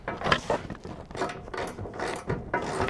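An open-ended wrench tightens a nut during a B2 carrier install, producing close, rhythmic rasping and ratcheting scrapes in short bursts about every half second.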